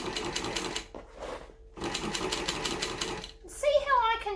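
A cylinder arm sewing machine runs in fast rattling bursts as it back stitches a bag, with short pauses between runs and a voice speaking near the end.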